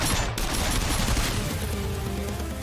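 Dense continuous gunfire in a Mugen-style fighting video game, loud and sustained throughout the short stretch, with no talking.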